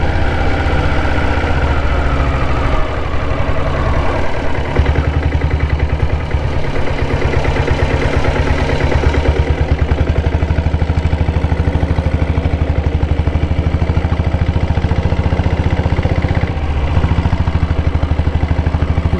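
A diesel Bullet 7.5HP motorcycle engine runs steadily on a dirt road, a loud close low thumping drone with a fast even pulse and mechanical vibration throughout, no speech.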